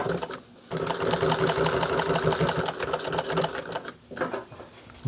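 A domestic sewing machine top stitching fabric runs in a steady, close, fast whirring rattle, with a brief pause just before the end and no voices.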